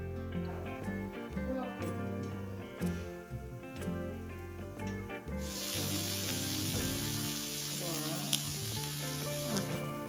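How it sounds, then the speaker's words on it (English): Vegetables and meat sizzle on a raclette grill, a steady frying hiss that swells louder partway through, layered under background music. "Place veggies and proteins on top of the grill."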